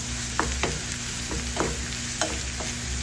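Garlic and onion sautéing for corned beef, a steady close sizzle with spatula scrapes and taps against the pan repeating every half second or so.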